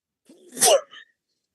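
A single loud, close sneeze with a short breathy intake before the burst and a brief trailing sound after.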